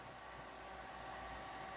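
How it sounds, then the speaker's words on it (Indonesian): A steady, fairly quiet whir of a small amplifier cooling fan runs continuously, an even airy hum with a faint tonal whine. "Itu suara kipas ya, bukan dengung ya."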